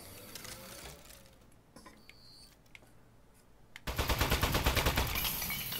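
Automated turret in the Aperture Desk Job video game opening fire: a sudden loud, dense burst of rapid gunfire with a fast regular rattle, following quieter mechanical clicks and whirs.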